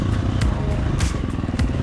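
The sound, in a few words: motorcycle engine pitching while running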